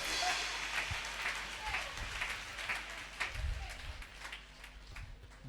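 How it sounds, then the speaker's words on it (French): A church congregation applauding and cheering in acclamation of Jesus, with a loose burst of clapping and crowd noise that gradually thins out, heard at moderate distance alongside speech. "Et acclame pour Jésus de Nazareth."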